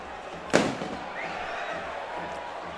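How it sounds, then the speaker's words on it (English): A firework bursts in a rugby league stadium during a Halifax Panthers match: one sharp, loud bang, then a lingering rumble over continuous crowd noise. "Oh, fireworks are going off already."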